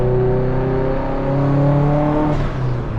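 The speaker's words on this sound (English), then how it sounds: "I barely just like put a little throttle in it and it was like zoom" A big-turbo Subaru STi engine revs under light throttle, its harmonic note climbing and holding strong as the turbo spools quickly, loud and close, ending with a brief hissing whoosh.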